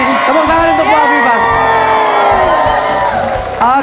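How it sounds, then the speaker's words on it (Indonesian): A studio audience on the Indonesian game show Super Deal cheers, whoops and shouts loudly and continuously, with a brief swell near the end. "Tepuk tangan untuk Bu Afifa."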